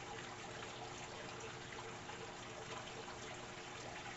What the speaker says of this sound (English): As soon as I start filling the tank back up,